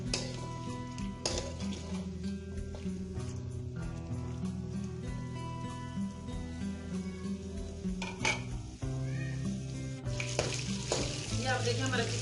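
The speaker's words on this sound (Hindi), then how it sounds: "अच्छी तरह से भून लेंगे चिकन को। हमने तकरीबन इसको दरमियानी आंच पे भूनना है।" Chicken fries over medium heat in a karahi for a Peshawari charsi karahi, giving a fairly quiet, continuous sizzle with occasional spoon scrapes and pan clanks throughout.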